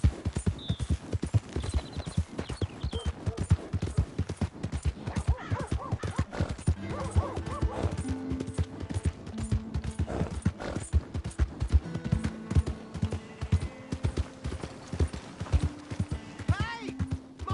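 Horse hooves gallop in Red Dead Redemption 2, a steady, loud clip-clop rhythm running throughout, with a horse's whinny and someone shouting over the top.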